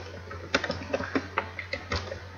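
Code is typed on a computer keyboard as a run of crisp, irregular key clicks at close range, with a faint steady hum underneath and no talking.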